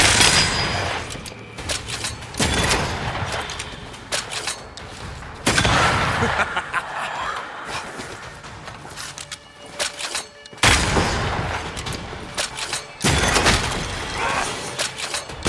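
Gunfire in the video game Banishers: Ghosts of New Eden aimed at a lantern, several loud sharp bursts and booms in a row, each followed by a decaying rumble and shattering debris.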